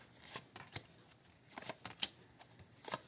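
Tarot cards are shuffled in quick, soft riffling bursts, close and quiet, with brief gaps between handfuls.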